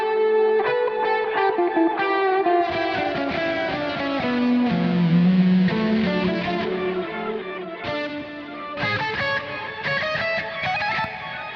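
Electric guitar played through an extreme distortion plugin, a thick, saturated wash of sustained chords and high single notes ringing on without pause, loud and close, with no voice over it.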